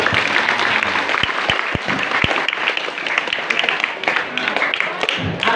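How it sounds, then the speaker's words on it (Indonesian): A crowd applauds steadily at a school student council election campaign, dense clapping filling the room with a few sharper individual claps standing out. "Tepuk tangan dong."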